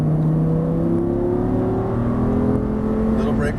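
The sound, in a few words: Audi R8 accelerating on a race track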